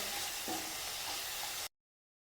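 Turmeric and coriander powder stirred into a sautéing masala for chicken mappas, a soft continuous frying sizzle with faint stirring scrapes, close and steady, then cutting off abruptly into silence.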